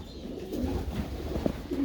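A brief burst of low, rolling coos from pigeons in an aviary housing several breeds, including German drummers and white homers, several birds overlapping at close range.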